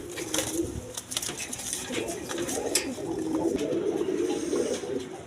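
A pair of black-lace satin pigeons, a hen and a cock, give soft, repeated low coos that rise and fall through the clip, with faint background noise beneath and no one speaking.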